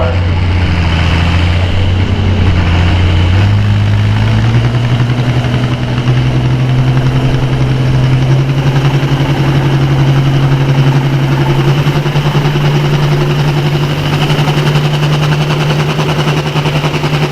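An International farm tractor roars at a field farm class tractor pull in Hastings, Michigan, its loud engine drone holding steady and climbing slightly in pitch under load, with a rough rattling edge throughout.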